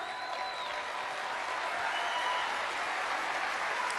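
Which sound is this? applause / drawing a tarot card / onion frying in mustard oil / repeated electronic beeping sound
applause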